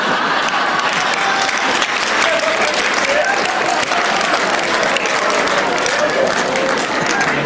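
Listeners at a Hindi poetry reading clap loudly and continuously, a dense close roar of many hands with a murmur of voices mixed into the crowd.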